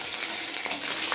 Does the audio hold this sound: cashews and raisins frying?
yes